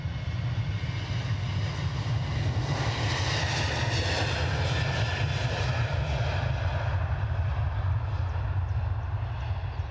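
An EasyJet plane bound for Lanzarote takes off from Edinburgh Airport with a loud, continuous jet roar that swells in the middle and then eases slightly as it climbs away, with no talk.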